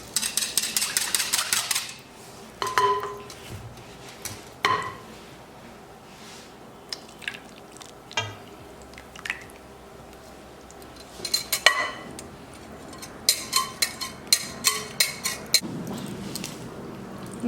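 A whisk clatters and scrapes rapidly against a bowl in bursts, mixing chocolate cake batter, with pauses and a few clinks in between; no talking.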